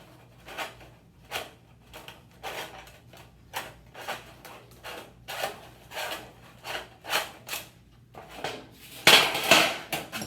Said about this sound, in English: These are your best friend, these folding pliers. I use these for the short side. You want to fold these up.